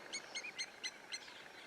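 A lapwing dive-bombs a vervet monkey on safari, giving five evenly spaced, shrill, piercing calls in a rapid rhythm over quiet outdoor background.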